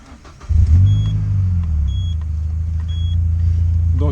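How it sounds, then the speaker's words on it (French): The 2-litre, 138 hp Peugeot 206 S16 fires up with a sharp surge, then settles into a deep, steady idle rumble from its exhaust, heard close with faint electronic beeps at intervals. "je vais faire quand même écouter, le plus important aussi, la sonorité de la voiture"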